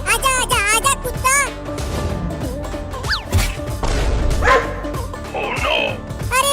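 A cartoon puppy barks and yips in a chase scene with excited, high-pitched barks near and loud, mixed with crashes, music and cartoon voices talking over it.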